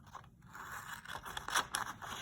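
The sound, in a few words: scissors cutting up lab materials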